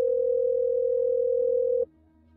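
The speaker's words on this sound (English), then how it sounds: "If you do not hear a dial tone" A single steady electronic dial tone from a speaker test holds for nearly two seconds, then cuts off abruptly, leaving a faint low hum behind.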